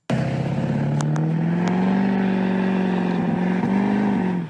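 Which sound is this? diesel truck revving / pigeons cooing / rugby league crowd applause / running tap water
diesel truck revving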